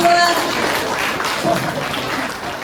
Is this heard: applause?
yes